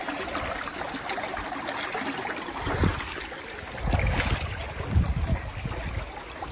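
A small stream flowing beneath a flat rock slab along a hillside road, a steady rushing, gurgling wash with a few louder splashing surges, fairly near and alone without talk.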